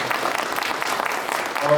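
Audience applause at a Lenten lecture given by a Catholic priest in a parish church, a steady patter of clapping filling the short stretch at moderate loudness.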